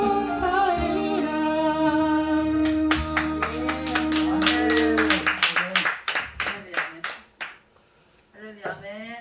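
A church congregation at a Saturday prayer-house gathering claps in praise, starting as a dense burst of applause over music and voices, then settling into loud, evenly spaced rhythmic claps that fade out.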